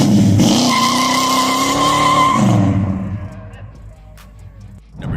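A loud, steady 1969 muscle car engine roars for about three seconds with a strong low rumble and harmonic whine, then fades away, leaving quiet background.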